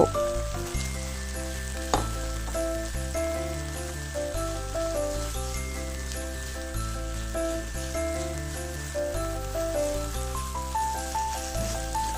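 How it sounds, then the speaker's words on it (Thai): Small frogs being stir-fried in a pan for a dry northern Thai curry dish, a continuous bright sizzle and crackle running under steady background music, with no voices. "เอาเขียดใส่ลงไปพัดให้สุกเจ้า"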